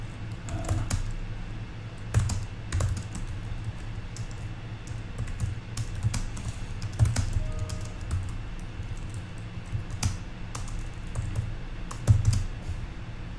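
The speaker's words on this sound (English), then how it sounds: "I'm going to type whatever it is my question is going to be" Typing a quiz question on an iPad, light irregular taps in short runs with a few sharper hits, close and fairly quiet against a low background hum.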